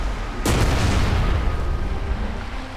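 A single sharp, loud gunshot boom in the video game Enemy Front that rings out into a rumbling tail, followed by low background noise.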